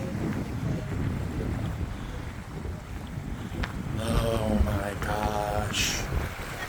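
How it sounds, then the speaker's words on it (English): Wind buffets a boat on the ride out to Alcatraz, a continuous rough rush of gusts and water, with excited voices briefly talking over it near the end. "It's windy."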